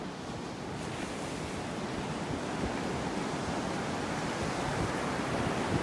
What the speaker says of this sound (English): Some nice little waves out here.